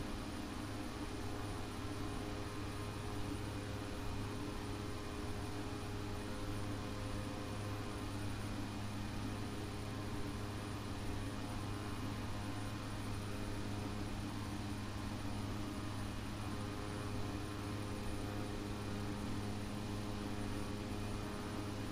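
Steady, continuous drone of a small turboprop plane's engine in a flight simulator game, with a reverse-thrust propeller, holding a constant hum with a fixed tonal whine throughout and no talking.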